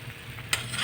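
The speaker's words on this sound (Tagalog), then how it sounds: "Ayan po, kumukulo na po siya." Pancit bato noodles cooking in a pan give off a brief, steady bubbling sizzle with a soft hiss and one sharper crackle midway, close and alone.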